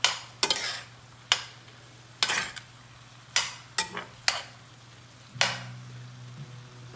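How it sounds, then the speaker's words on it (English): Rice for dirty rice crackling in a hot pan as stock goes in: a low steady sizzle beneath repeated sharp scrapes and taps of a utensil stirring against the pan, with a louder bubbling rush near the end. "when we want to add the rest of our stock and really wake this dish up"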